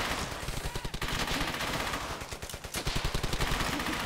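Gunfire in Brothers in Arms: Hell's Highway, a World War II shooter, comes as rapid bursts of loud, close automatic shots that pulse in quick rhythmic volleys over continuous battle noise.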